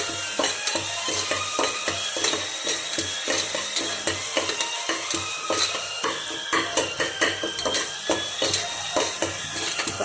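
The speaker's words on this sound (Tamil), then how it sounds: "நம்ம போட்ட வெங்காயத்துக்கு நல்லா வதங்கிடுச்சு" Onions sautéing in a pan for a mutton trotter curry, giving a steady crackling sizzle with frequent sharp clinks and scrapes of a spoon stirring against the metal pan, close and continuous throughout.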